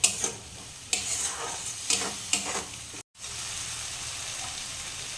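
Spice masala loosened with a little water is sautéed in a pan for a fig (dumur) dish: a steady close sizzle with several scraping stir strokes, a brief cut, then continued frying.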